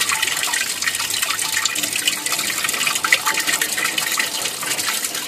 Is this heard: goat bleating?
no